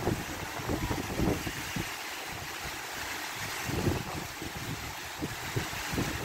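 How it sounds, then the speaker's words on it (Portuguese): Rain falls steadily in Goiânia just after a damaging windstorm, making an even, close hiss broken by occasional low gusty rumbles, with no one speaking. "Agora só tá chovendo, gente."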